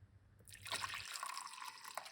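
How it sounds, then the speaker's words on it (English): Ginger tea pours from a pot into a cup, a faint, brief liquid stream with light splashing and trickling, close by and heard alone. "pour out that beautiful tea"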